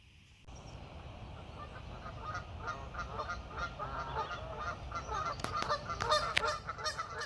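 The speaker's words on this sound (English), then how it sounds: "I think geese are going a little bit mental this morning." A flock of geese honking continuously in the morning by a carp fishing lake, many overlapping calls at close range, with a few louder, sharper honks standing out toward the end.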